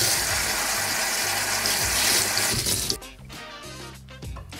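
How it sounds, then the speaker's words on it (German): Water gushes steadily into a bottle for a few seconds, then stops, leaving quieter gurgling and trickling sounds with light handling noises. "das kann man aufschrauben und dann kann man da Wasser reinfüllen"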